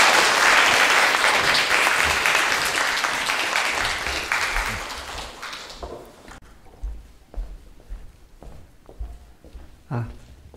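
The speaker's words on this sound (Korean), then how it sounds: "큰 박수로 환영해 주시기 바라겠습니다" An audience at a lecture hall applauds to welcome a professor to the podium, loud sustained clapping that fades out over several seconds, followed by quiet footsteps and small room noises.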